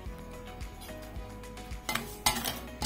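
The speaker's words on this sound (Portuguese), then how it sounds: "Até o açúcar derreter, a gente vai mexer." A spoon scrapes and clinks against a pot on the stove while sugar is stirred to melt and caramelize, giving soft repeated scraping with a few sharper knocks near the end and no talk.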